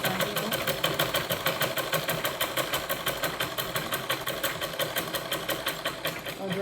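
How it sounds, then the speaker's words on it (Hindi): A sewing machine runs a long basting stitch, with a steady, fast mechanical rhythm of even needle strokes, close and continuous throughout with no talking. "मशीन से जब हमें कच्चा सिलना हो तो हम मशीन की बड़ी चाल करके ही कच्ची सिलाई लगाते हैं"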